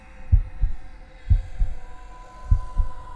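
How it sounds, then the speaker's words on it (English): Rapid heartbeat as a sound effect: deep, thudding lub-dub pairs repeating about three times in quick succession over a faint low hum, loud and close. "the only sounds inside the cabin were Sarah's rapid heartbeat"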